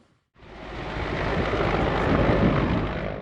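Military helicopters of an army aviation brigade, Mi-8 transport-combat and Mi-24 attack types, flying nearby: a loud, steady rotor and engine roar starts abruptly after a brief silence and holds, slowly swelling, with no voices.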